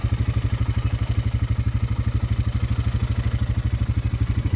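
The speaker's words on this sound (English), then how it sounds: "We're up here cruising around on the four-wheeler" An ATV four-wheeler engine chugs steadily while being ridden around a remote Alaskan bush village, a close, loud rhythmic low thump with light clatter running continuously without talk.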